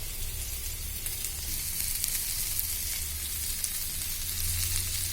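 Chicken pieces coated in oil sizzle on a pan grill, a steady close hiss and crackle that runs the whole time over a low hum, with no one talking.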